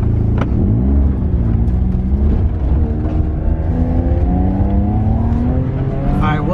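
A fully loaded supercar drives at speed and accelerates, its engine holding a loud, close, steady roar and rising in pitch as it pulls, with road rumble beneath and a brief voice near the start.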